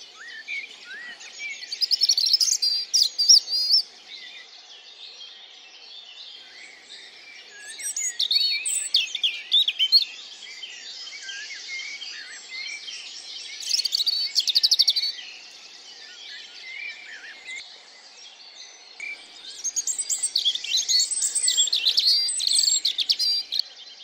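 Wild birds, including a robin, sing in a valley forest in the Goëlo valley near Ploufragan, Brittany, with bright chirps and trills arriving in several separate bursts over quiet background.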